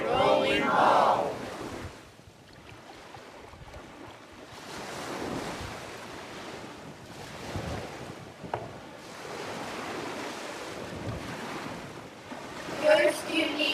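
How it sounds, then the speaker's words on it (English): Ocean waves wash ashore in broad, rolling surges over nearly fourteen seconds, mixed with gusts of wind buffeting the microphone, with no voices. "First, you need an ocean."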